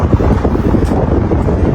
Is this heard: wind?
yes